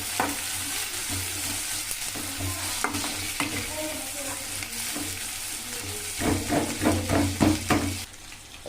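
Chilli and onion fry in an oily pan with a steady sizzle, joined by loud, rhythmic scraping and stirring strokes toward the end before the sizzle settles again.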